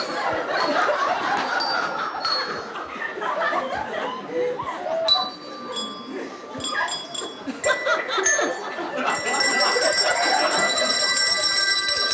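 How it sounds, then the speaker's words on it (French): A small bell rings several times in a bright, chiming way amid laughter and chatter from people in a television segment, its tones ringing on more clearly toward the end. "Une cloche?"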